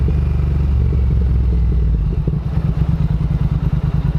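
A Triumph Thruxton R motorcycle rides up to a dealership service area. Its engine rumbles steadily close by, then breaks into a choppy, pulsing idle as it slows.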